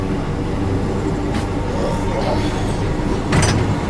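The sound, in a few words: Prayagraj Dadri Summer Special passenger train departing Bharwari station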